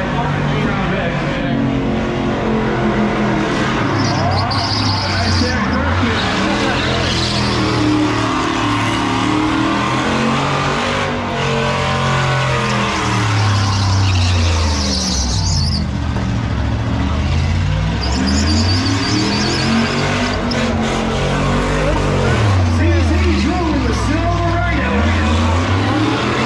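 A truck spinning both tires with its engine roaring, loud and continuous throughout, pitch rising and falling as the throttle surges, with a voice talking over the din.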